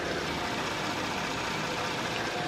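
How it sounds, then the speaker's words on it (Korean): A gasoline Kia The New K9 engine idles with the hood open, a steady, smooth, quiet hum heard up close with no speech. "엔진 소음을 담기 위해 본네트를 한번 열어봤는데요. 영상으로 엔진 소음 한번 담아보도록 하겠습니다."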